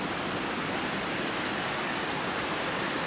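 Steady, dense broadband rush of a waterfall on the trail to Rajmachi fort, continuous and fairly loud from start to finish, with no speech.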